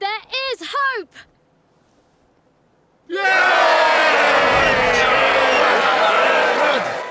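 A large crowd cheers and roars in the video game Ni no Kuni 2, a loud sustained wall of voices bursting in after a short voiced cry and a brief quiet gap.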